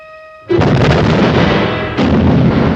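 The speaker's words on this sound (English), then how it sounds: "First torpedo should be hitting about now." A heavy torpedo explosion against a ship in a 1951 black-and-white submarine film, a sudden loud broadband blast that rumbles on, then a second roaring surge about a second and a half later, with no talk.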